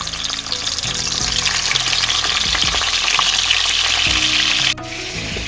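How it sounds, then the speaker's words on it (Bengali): Chicken pieces fry lightly in a pan, a steady close sizzle with stirring scrapes throughout, briefly interrupted near the end before the sizzling resumes. "ওর মধ্যে চিকেনগুলোকেও হালকা ফ্রাই করে নেব"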